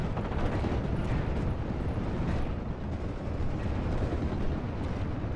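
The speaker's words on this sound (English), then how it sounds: "A couple bombs coming in." Bombs and barrage shells burst in a World War II Company of Heroes real-time strategy battle, a dense, continuous rumble of overlapping blasts and crackling fire that lasts throughout with no pauses.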